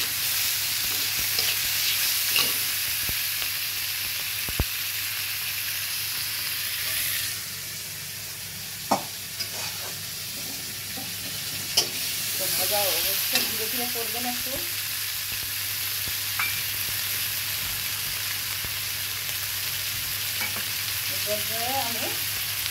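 Tilapia fish frying in oil in a pan, a steady hissing sizzle that carries on throughout, broken by a few sharp knocks and scrapes of a spatula, with no voices.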